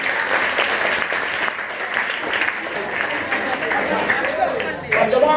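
Students in a school hall in Charkop, Kandivali, Mumbai applaud in welcome for the principal and teachers: sustained, dense group clapping that stays steady throughout, with some crowd chatter mixed in.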